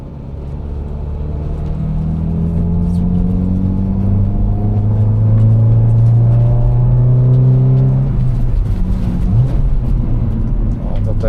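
A 1999 Ford Focus 2.0 16v engine revs steadily while driving, its rising and falling whine clear and loud inside the car over a constant road rumble.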